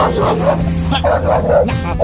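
A dog nearby barks and yips repeatedly in quick bursts, with whiny tones between barks.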